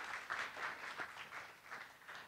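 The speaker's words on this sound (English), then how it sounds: "I'd love if you give her a lovely warm round of applause and welcome her to the stage" A crowd claps to welcome a woman onstage at a company presentation in Maastricht; the applause is faint and distant, a steady patter of many hands through the whole stretch with no voices.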